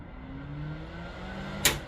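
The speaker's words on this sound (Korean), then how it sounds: "팬도 키면 시끄럽지만" A range hood fan in the kitchen of a 2024 Rockwood 2706WS caravan runs with a steady, moderately loud whooshing hum. A short bump is heard near the end.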